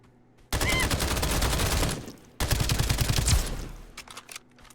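Rapid automatic gunfire in the video game Escape From Duckov comes in two long, loud, dense bursts broken by a brief gap, then tapers into scattered shots with no voices.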